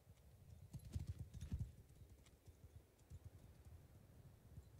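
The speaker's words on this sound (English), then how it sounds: "knowing there's about 50 horses coming over that hill" A cavalry charge of many horses galloping in the video game Mount & Blade II: Bannerlord produces a steady stream of dull, overlapping hoof thuds, heaviest near the start and continuing without speech.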